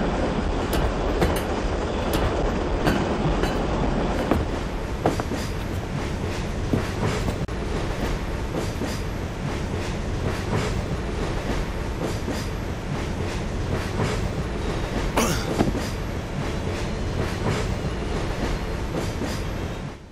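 A steady, loud rumble of a moving train in the video game The Last Express, with rhythmic clickety-clack from the wheels and occasional metallic squeals, continuing throughout without talk.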